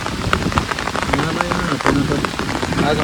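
Heavy rain pours steadily outdoors in a rural field where sheep shelter under a tree, a dense, continuous hiss with scattered drop impacts, close and loud throughout, with voices faintly present.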